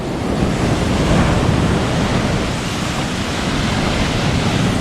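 Big sea waves crash at Lamai Beach on Koh Samui as a steady, loud roar of surf, heavy and continuous with wind buffeting the microphone and no voices.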